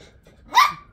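A dog gives a single short, sharp bark nearby, alone and with no talk, set beside a car repair job on a Renault Twingo mk1.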